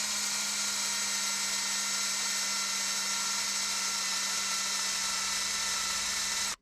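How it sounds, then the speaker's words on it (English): A power drill running steadily with a bit fitted, a continuous high whine with a low motor hum holding unchanged for about six seconds, loud and close, then cutting off abruptly at the end. "I have to put my drill on reverse for these bits."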